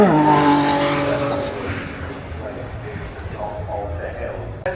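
A Ferrari race car screams at about 9,000 RPM up the hill climb at the Goodwood Festival of Speed, loud at first, then its high engine note falls away as the car recedes into the distance.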